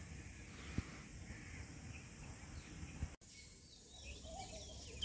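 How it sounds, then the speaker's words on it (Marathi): Crows caw and small birds chirp faintly in a calm morning countryside setting at a villa in Karjat, distant calls scattered over quiet ambient background with a couple of soft knocks. "पक्ष्यांचा किलबिलाट"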